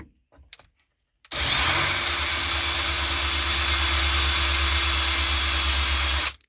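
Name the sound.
drill bit drilling into raised metal on a car part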